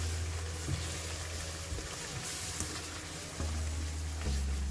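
Onion masala with coriander powder and turmeric frying in a pan for Pakistani kofta gravy, giving a steady close sizzle with occasional stirring scrapes and low rumbling bursts throughout.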